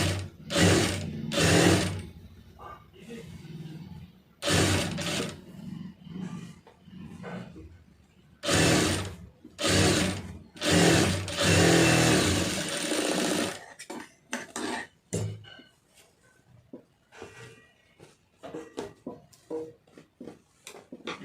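A sewing machine stitches a plain blouse in several loud, whirring bursts of a few seconds each, separated by quiet pauses, ending in quicker short runs.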